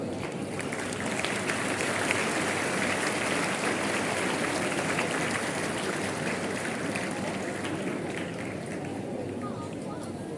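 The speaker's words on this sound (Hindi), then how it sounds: "आप सभी से एक बार फिर तालियों का अनुरोध।" Sustained applause from an audience at an Independence Day school event, a dense steady clatter of many hands clapping that holds for about ten seconds without a break.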